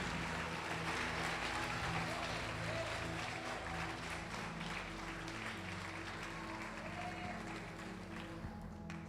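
A church congregation applauds steadily at a Brazilian evangelical service, a dense wash of clapping with a sustained keyboard or organ chord underneath, holding for several seconds before easing slightly at the end.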